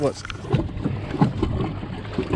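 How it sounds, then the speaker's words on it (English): A rigged bass boat running around 4 mph at half throttle slaps over wakes, giving a steady rushing of water and hull thumps with someone talking over it. "I'm hitting some wakes right now, and I'm not going really fast"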